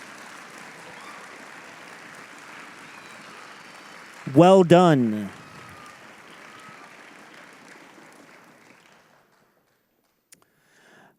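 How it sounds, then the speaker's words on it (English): An audience applauds steadily at a high school orchestra's end-of-year celebration. The clapping is fairly loud and fills the room. A voice briefly speaks over it, and then the applause fades away. "Everybody, let's give all of those people a round of applause."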